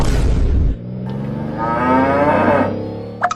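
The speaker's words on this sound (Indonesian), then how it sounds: "pernah dengar tidak tentang sapi limosin?" A Limousin beef cow lets out one long, loud, drawn-out moo close by that rises and then tapers off, followed by a couple of brief clicks at the end.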